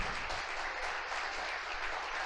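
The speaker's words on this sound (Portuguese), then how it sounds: "Você pode dar uma salva de palmas para o Senhor?" A church congregation applauds steadily in a dense, continuous wash of clapping that holds at an even level throughout the short stretch.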